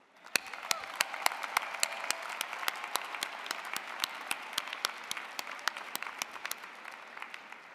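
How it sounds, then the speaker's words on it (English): Audience applause for a graduating business administration class at the University of Illinois Chicago spring commencement, steady dense clapping from a large crowd with sharp individual claps standing out, sustained throughout at moderate level. "Please join me in a big round of applause for this fantastic class"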